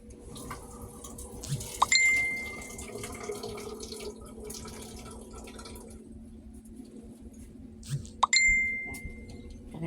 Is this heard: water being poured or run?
yes